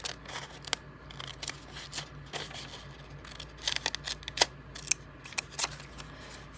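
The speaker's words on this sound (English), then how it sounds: "I'm just going to cut straight down because I'm making a pocket." Scissors snip straight down through a book page to make a paper pocket, giving a run of crisp, close cuts in uneven bursts with no talk.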